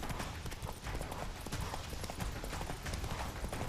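Horse hooves gallop in The Witcher 3 video game, a fast, steady clip-clop rhythm close up and dense, with game ambience running underneath.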